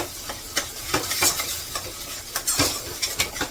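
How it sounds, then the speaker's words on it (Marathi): A spoon scrapes and stirs masala paste sautéing in a pan for a chana masala, giving rhythmic close scraping strokes over a soft continuous sizzle. "आता हे चांगलं असं परतून घेते व्यवस्थित"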